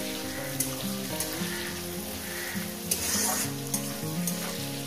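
Onions fry in a pan for a parshe fish jhal curry, a steady close sizzle broken by a few scraping stirs, with faint tonal music underneath.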